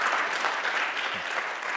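Continuous applause from the audience at a health masterclass, a dense even wash of many hands clapping at moderate volume with no voices over it.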